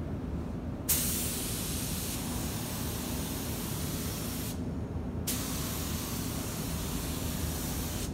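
An LVLP spray gun atomizes car paint in a loud, steady hissing blast, cutting off briefly twice between passes before resuming, close and continuous with no talk.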